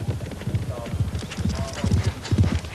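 The racehorse Desert Orchid gallops alone uphill on wood chippings, a steady, close, rhythmic drumming of hoofbeats with muffled thuds on the soft surface.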